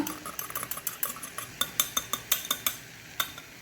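A metal spoon stirs and scrapes a pan as beaten curd is mixed into a masala for a Karavali-style alasande bean and drumstick leaf gravy, giving a quick series of sharp clinks and taps with no talking.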